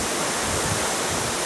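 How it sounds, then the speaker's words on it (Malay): A waterfall and a river splashing below it on a mountain hike, a dense, unbroken roar of falling water, loud and close, with no voices over it. "Terasa angin dan juga gerimis air. Air percikan air terjun."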